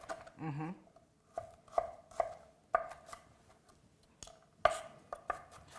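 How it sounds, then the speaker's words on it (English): A knife rough-chopping shallots on a cutting board, sharp wooden knocks arriving in uneven clusters of single strikes with short gaps, close and crisp in a quiet kitchen, no one speaking. "we need to cut our shallots"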